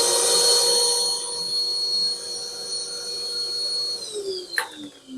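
A workshop dust collection vacuum runs steadily in a woodworking shed, a loud continuous whine with strong tonal hum that holds for several seconds, then drops in pitch as it begins spinning down near the end.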